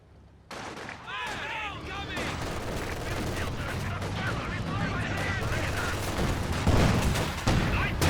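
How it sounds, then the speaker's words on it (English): Battle in the Company of Heroes 2 strategy game, with heavy mortar blasts and crackling rifle and machine-gun fire rolling on steadily, while a commentator talks over the continuous combat din. "that is indeed the heavy mortar for the Angry Dutchman."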